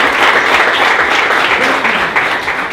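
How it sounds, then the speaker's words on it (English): An audience bursts into loud, sustained applause for Google's visit at a tech tools launch, dense clapping filling the room evenly and close to the microphone. "let's give a big round of applause to Google"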